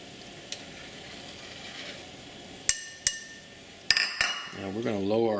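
Metal skimmer scraping and clinking against the rim of a pot of boiling Korean rice cake soup (tteokguk), a few sharp taps and clinks over a steady bubbling simmer, with a brief voice at the end.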